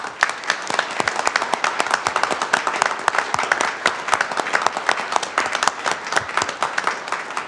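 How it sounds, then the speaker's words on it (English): Warm, sustained applause fills a city council meeting as a community member is honored, with many distinct hand claps close by, forming a busy, even patter that lasts the whole time. "So can we give him a round of applause,"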